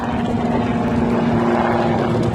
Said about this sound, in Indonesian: Helikopter waterbombing dikerahkan untuk pemadaman.